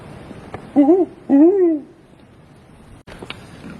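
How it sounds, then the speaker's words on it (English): Recorded owl calls played back outdoors near a nature center during an evening owl prowl: two clear, loud hoots in quick succession, then quiet with faint background noise. "we're going to play owl calls"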